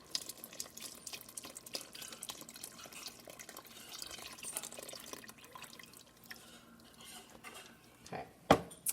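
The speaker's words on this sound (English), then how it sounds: "Pour that in there. And the rest of the stock." Chicken stock is poured into a cooking pot as a faint, continuous splashing and trickling with scattered drips and light clinks, ending in a sharper knock.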